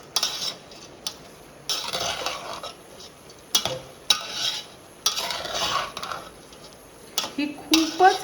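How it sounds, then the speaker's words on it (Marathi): Sweet moong dal khichdi being mixed in a pot, with repeated scraping strokes and clinks of a spoon against metal in an uneven rhythm, close by, with a faint sizzle beneath. "आणि आता हे सगळं छान मिक्स करायचं"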